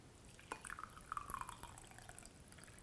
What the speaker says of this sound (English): And then you can pour it into a cup, or this is a coffee glass